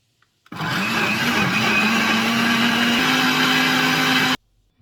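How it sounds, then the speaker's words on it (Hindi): A blender whirs steadily for about four seconds, processing oranges, eggs and sugar into orange cake batter, starting and stopping abruptly with a loud, even motor drone. "ये भी जाएगी ब्लेंडर में इस तरह से।"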